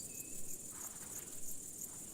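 Large marsh grasshopper, a big, colourful native species of wet moorland, stridulating with a rhythmic snapping of its hind legs, heard as a steady, moderately loud insect buzz over a hissing high-pitched background.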